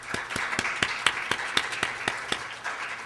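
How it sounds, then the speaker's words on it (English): An audience gives a round of applause at a talk event, with a scattered, loose patter of hand claps that carries evenly through the whole stretch and has no speech over it. "please round of applause for Jane."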